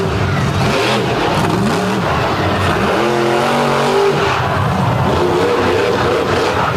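A monster truck engine at a beach show roars and revs hard, pitch rising and falling in repeated surges as it launches off a bus, loud and close throughout.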